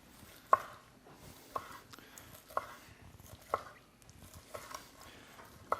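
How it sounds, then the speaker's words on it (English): A knife slicing smoked pastrami beef rib meat off the bone: soft, moist cutting strokes punctuated by roughly one sharp tap per second as the blade meets the board, close and fairly quiet. "I'm gonna take it off the bone."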